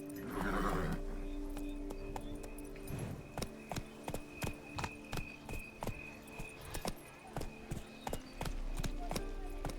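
A horse's hooves clip-clop at an easy pace in The Witcher 3 video game, a steady run of close, sharp knocks with a brief whinny at the start and a voice speaking over them.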